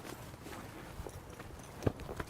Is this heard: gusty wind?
no